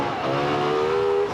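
A Lexus LFA sports car engine revs steadily, its rising harmonic tone climbing through one sustained pull, loud and close, with no talk over it.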